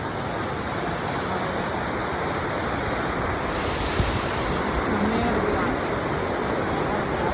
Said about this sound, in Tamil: இங்கே ஒரு வாட்டர் ஃபால்ஸ்